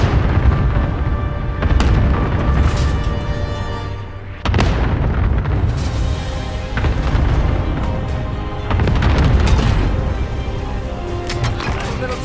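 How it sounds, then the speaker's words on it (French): Air strike explosions in Call of Duty Warzone, repeated heavy booms and rumbling blasts over about twelve seconds, loud and dense with mechanical game noise between impacts. "Cible de frappe aérienne marquée."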